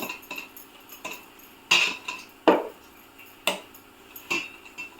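A spoon presses raw mango juice through a bowl used as a strainer set over another bowl, giving sharp metallic clinks and scrapes in uneven bursts, close and clear with no voices.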